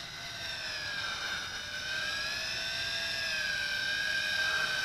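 A Tarantula X6 quadcopter drone flies in close to land, its motors giving a loud, steady high-pitched whine that rises and falls gently in pitch, with no voices.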